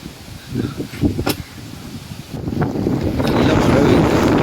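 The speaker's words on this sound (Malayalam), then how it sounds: "നല്ല കാറ്റടിക്കുന്നുണ്ട്." Strong wind after rain buffets the microphone, starting as gusty rumbles with faint background speech, then building into a loud, continuous roar through the second half.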